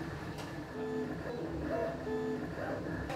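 Desktop 3D printer running, building an object layer by layer, with a steady mechanical hum and repeated whirring stepper-motor tones rising and falling close by.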